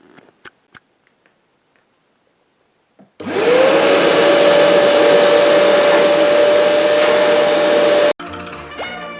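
A homemade cyclone chip vacuum, its central tube removed for maximum suction, switches on after a few faint taps and roars loudly and steadily for about five seconds before cutting off abruptly.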